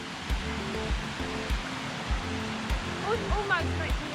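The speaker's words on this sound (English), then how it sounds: "I hear water." A hillside stream in the Scottish Highlands by an NC500 campsite, its water rushing in a continuous broadband wash close by, with faint voices underneath.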